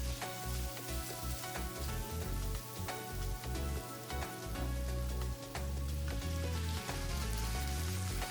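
Pork chops sizzling in a pan with apples and cider, a dense crackling fry close up that runs steadily throughout with no talk.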